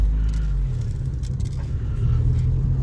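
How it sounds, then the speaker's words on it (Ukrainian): A cold Daewoo Lanos with engine guard fitted, running on gas, drives off on a test drive; a steady low engine rumble and road noise continue throughout, close and fairly loud. "Давайте зробимо тест-драйв"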